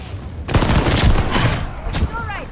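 Rapid bursts of gunfire in a video game battle around a hard point, loud and close, a dense volley of shots followed by a sharper single blast, with a voice speaking over the fighting.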